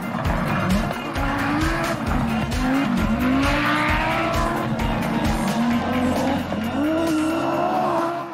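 An Audi Quattro Group B rally car races up a hill stage with a loud, continuous engine roar that rises and falls through gear changes, plus squealing, skidding tires and no talk.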